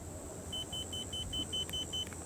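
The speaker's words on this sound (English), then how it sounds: "until it beeps like that" A series of eight short, high electronic beeps from a Watersnake GPSmart electric outboard motor controller during calibration, in a quick even rhythm, fairly faint over a steady low hum.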